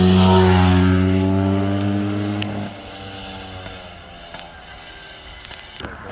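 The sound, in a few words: Bultaco 350 trials motorcycle riding fast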